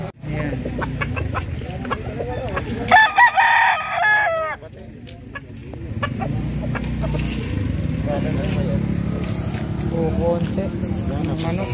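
A rooster crows loudly at a poultry market in Lipa, Batangas, with chickens clucking around it while people talk nearby.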